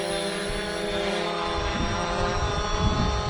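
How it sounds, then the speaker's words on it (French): FIMI X8 SE drone in flight, a steady high-pitched propeller whine held evenly and fairly loud, with no speech. "Je vais mettre le drone un poil plus loin."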